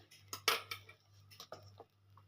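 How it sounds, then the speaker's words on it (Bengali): A metal spoon taps and scrapes through a freshly steamed semolina masala cake, giving a handful of light, close clicks spread irregularly over a couple of seconds, with a steady low hum in the background. "আমি চামচ দিয়ে আপনাদেরকে দেখাচ্ছি"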